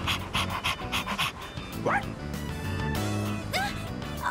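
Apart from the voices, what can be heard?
dog panting and barking in the video game Persona 3 Reload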